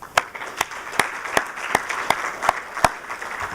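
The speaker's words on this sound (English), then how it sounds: "I want to give another round of applause to all the speakers that came out." Sparse, scattered clapping from a small conference audience, with individual sharp claps landing at a steady, fairly even pace over a soft background murmur.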